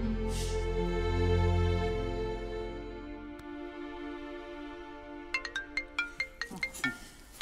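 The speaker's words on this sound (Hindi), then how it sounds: "आनी का फोन?" A phone ringing with a melodic ringtone that is loud and sustained, then breaks into a rapid series of short plucked notes near the end, set in a TV drama scene.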